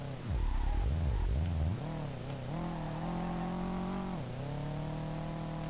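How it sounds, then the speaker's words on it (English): A rally Subaru Impreza in the SLRR driving game, its engine revving up and down with shifting pitch and then settling into a steady, loud drone. "I'm gonna drive this car probably till the engine fucking dies"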